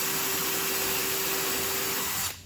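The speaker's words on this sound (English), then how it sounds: "I don't want to drill this size bit any deeper than through the outer piece of wood." A power drill runs steadily with a constant whine while boring a screw hole into a wooden gunwale on a Michalak AF4 Grande skiff, loud and close, then cuts off abruptly at the end.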